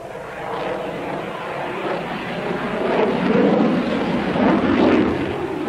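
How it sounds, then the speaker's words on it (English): An enormous military jet pulling a tight loop at the 1993 Biggin Hill International Air Fair, its engines a broad, continuous roar that swells as it comes nearer, heard alone without talk. "Now Anatoly pulls it over in a very, very tight loop for such an enormous aircraft."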